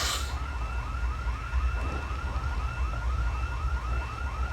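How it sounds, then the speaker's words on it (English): An alarm siren wails in the zombie survival game Project Zomboid, a loud, rapid, repeating up-and-down whoop that carries steadily through the whole stretch over low background rumble. "That's the stop it alarm."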